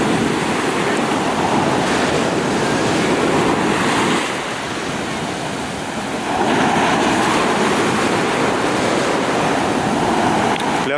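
Sea surf rolls at Cleopatra Beach in Alanya, Turkey, on an overcast November evening, a continuous loud wash of waves mixed with gusting wind noise on the microphone.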